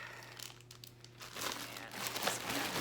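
A plastic zip bag of balsamic vinegar marinade crinkles and rustles close up, starting quietly then growing into steady, louder handling and crumpling.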